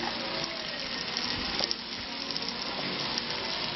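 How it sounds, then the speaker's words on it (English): Lemon pepper swordfish sizzling in oil on a griddle, a dense, steady hiss and crackle that stays loud and close throughout, with no talking. "they're starting to sizzle pretty good."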